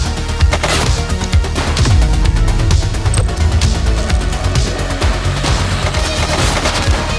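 Gunfire in The Precinct video game, loud, close, continuous automatic bursts with sharp cracking shots and impacts, no talking.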